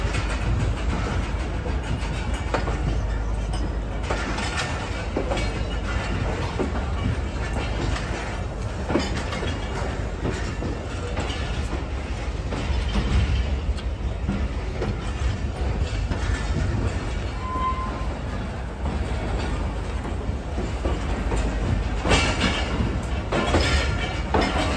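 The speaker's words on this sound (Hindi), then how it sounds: "मुल्तान कैंट रेलवे स्टेशन से डिपार्चर हो रही है" A passenger train on the Rahman Baba Express departs Multan Cantt railway station and rolls along the rails, giving a steady rumble with clickety-clack of wheels and brief squeals, close and continuous throughout with no talk.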